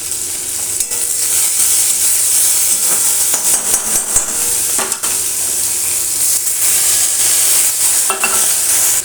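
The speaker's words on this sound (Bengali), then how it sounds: "আমি এটাকে পেঁয়াজ আর লঙ্কাটাকে বেশ ভালো করে লাল লাল করে ভেজে নেব" Onion and chili fry loudly in a pan with a constant close sizzle, broken by repeated scraping and clinking strokes of a spoon against the metal as the mixture is stirred.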